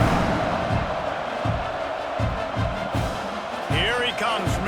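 Stadium crowd in a college football video game, LSU at Oklahoma, roars steadily before a kickoff, with rhythmic thumps and cheering throughout and a voice calling out near the end.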